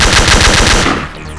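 Rapid automatic gunfire in the video game Darkest Island, a loud, close burst of about ten evenly spaced shots that cuts off and leaves a fading echo, with no voices.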